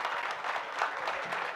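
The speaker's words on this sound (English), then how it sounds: "Round of applause, please." A crowd clapping after a cannabis cultivation panel at a Las Vegas event, a moderate, uneven burst of hand claps with scattered sharper hits.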